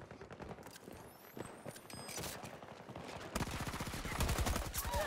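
AK-24 rifle fire in Battlefield 2042 rattles in rapid automatic bursts, quieter bursts early on giving way to denser, louder sustained firing toward the end.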